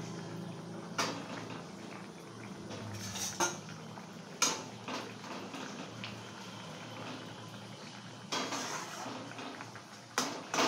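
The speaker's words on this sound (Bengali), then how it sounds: "মাছ ভাজাগুলো দিয়ে দিচ্ছি।" Fried pabda fish pieces go into a pot of curry with potatoes, bringing repeated clinks of a metal utensil against the pot and occasional sharper knocks over a steady low kitchen background, with no talking.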